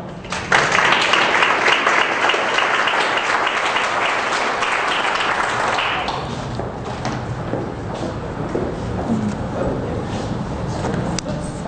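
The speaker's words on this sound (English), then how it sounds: "Let's give Tabby a big round of applause." Audience applause rises sharply and stays loud and dense for several seconds, then eases into thinner, scattered clapping that keeps going to the end.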